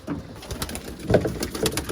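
Soft pigeon coos repeat over a steady outdoor background, moderately near, with a slightly louder burst of cooing in the middle.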